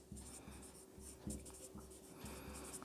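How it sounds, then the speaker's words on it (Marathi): Chalk or marker strokes scratching across a classroom board during a Marathi-language grammar lesson, a steady series of short rhythmic writing strokes close by, with a low continuous hum underneath and no talk. "मी इथं मुद्दामून लिहितो कॉम्प्लेक्स सेंटेन्स."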